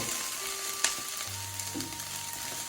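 Soya chunks fry in a pan with a soft, continuous sizzle and occasional light stirring taps, fairly quiet and close, with no voices.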